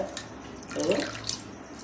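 Water drains and drips from a handful of freshly washed karpooravalli (Indian borage) leaves, a soft, brief trickle and spatter that swells in the middle and then thins into a few faint drops.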